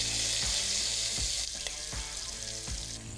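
Small meatballs browning in a pan make a loud, constant sizzle close by, broken by a few soft low thumps spaced about once a second.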